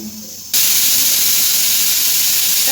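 A pressure cooker suddenly bursts into a loud, sustained hiss of escaping steam that continues steadily after a quiet start.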